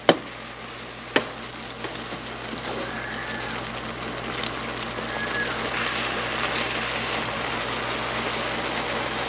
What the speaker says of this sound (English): You want that cabbage to cook down.